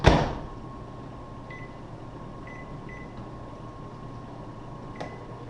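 Microwave oven humming steadily during a leak test, a low quiet drone after a sharp opening thump, with a few faint short beeps from a meter near the end.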